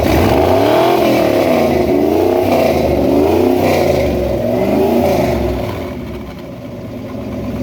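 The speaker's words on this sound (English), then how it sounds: "seen this 1976 Dodge Power Wagon try to do donuts" A 1976 Dodge Power Wagon with a smoking problem and suspected leaking valve springs revs hard while doing donuts, its engine note rising and falling continuously and loudly close by, with no talk.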